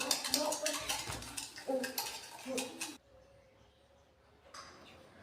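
A spoon stirs tamarind sherbet made with cold water in a glass, clinking and scraping in quick bursts for about three seconds before things go quiet apart from a faint hum and one late rattle.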